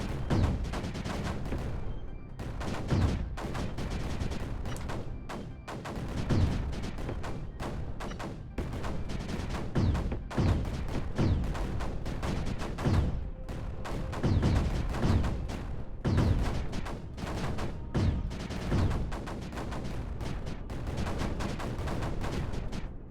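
Mortars in the video game Creeper World 4 fire in a steady stream of dull booming thumps, overlapping into a continuous dense barrage at moderate loudness throughout.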